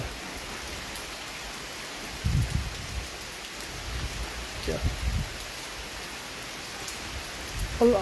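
Rain falls steadily at Karon View Point in Phuket as a soft, even hiss, with a few louder low gusts and faint voices in the background.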